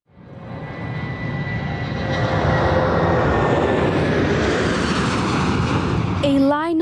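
Air Force transport plane at the Whenuapai base in Auckland, its engines building into a loud, steady roar that swells and holds close by, with a voice breaking in at the end.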